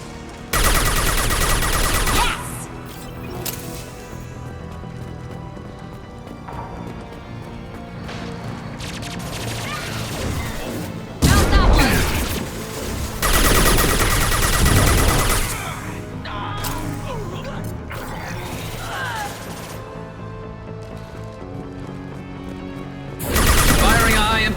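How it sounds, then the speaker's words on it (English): High-impact gunshots ring out in the video game Mass Effect 2: loud sharp bursts at the start, middle and end among ongoing combat clatter and game effects. "Firing a high impact shot."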